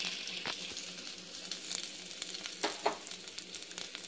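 Ingredients for paneer butter masala fry in a pan until browned, giving a steady, close sizzle with occasional crackles and stirring scrapes throughout.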